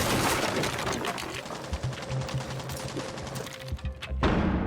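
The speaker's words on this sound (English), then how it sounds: "That's a beautiful flashbang" A flashbang grenade goes off in a shooter video game: a dense wash of loud noise with a thin, steady ringing tone running through it and scattered sharp bursts, cut off abruptly near the end.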